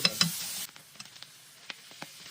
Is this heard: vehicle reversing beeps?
no